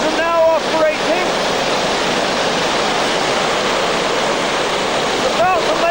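An SRN4 hovercraft runs on all engines at HMS Daedalus in December 2000, a dense, continuous roaring rush that holds steady throughout, with short warbling tones near the beginning and end.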